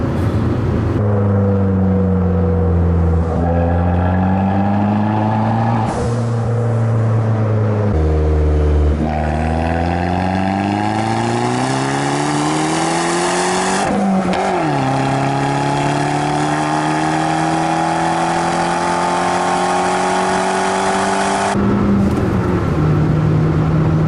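A 2013 Fiat 500 Abarth in sport mode pulls hard through several gears. Loud engine notes rise in pitch, drop sharply at each shift, then climb again in a long final pull before easing off.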